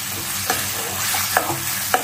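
Spices for dal are tempered in hot oil in a pan, giving a steady sizzle broken by three quick scrapes of a stirring spoon, close and clear with no talking.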